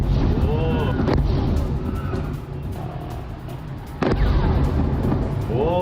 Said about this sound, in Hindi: एक के बाद एक कई हमलों से दहला बंदर अब्बास।